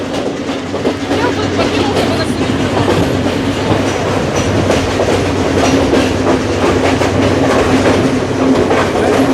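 A train in Sri Lanka's hill country rumbles steadily past on the tracks, wheels clattering continuously with a low droning hum, loud and close throughout.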